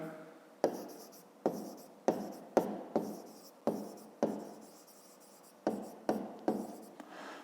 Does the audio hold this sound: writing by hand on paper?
yes